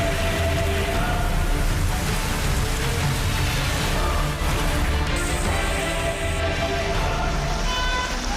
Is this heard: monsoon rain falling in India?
yes